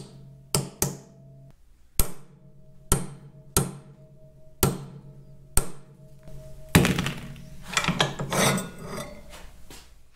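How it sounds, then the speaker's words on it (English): An end cap is driven down onto the hour meter counter of a Caterpillar D2 diesel engine with a series of sharp, evenly spaced metallic knocks, ending in a burst of scraping and handling noise. "This can be driven down just until it contacts the counter."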